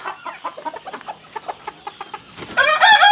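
Silver Laced chickens on a poultry farm give a run of soft, rapid clucks close by, followed by a louder, sharper burst of squawking calls at the end.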